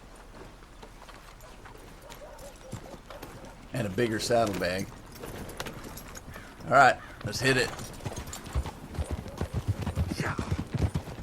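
Horse hooves clip-clop in Red Dead Redemption 2 as riders set out together, a steady rhythm of light, fairly close steps beneath louder bursts of conversation.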